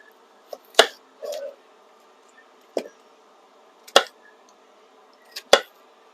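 An onion is chopped with a knife on a board, giving a handful of sharp, separate knocks spaced about a second apart with a brief scrape between them, close to the microphone and without speech.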